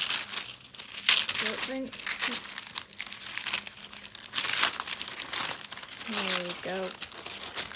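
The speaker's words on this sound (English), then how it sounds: "I'll open this with you all. If I can get into it. I'm not going to get into it without not ripping that sticker" A sealed package of colouring books and supplies is torn open, its sticker ripping amid repeated loud crinkling and crumpling of packaging, with a person talking throughout.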